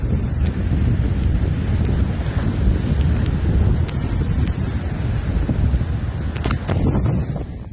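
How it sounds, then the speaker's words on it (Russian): A strong storm wind roars steadily on the Azov Sea beach at central Primorsk, with crashing surf underneath and heavy gusts buffeting the microphone throughout. "Вот сейчас такой ветер, шторм."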